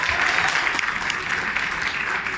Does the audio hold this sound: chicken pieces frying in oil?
no